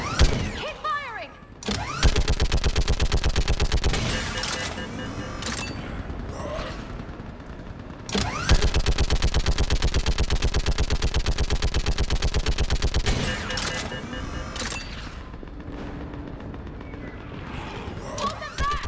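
Sustained automatic gunfire in a Mass Effect sci-fi battle, two long bursts of rapid loud shots with short pauses and scattered single shots between them, over battle noise and shouted voices.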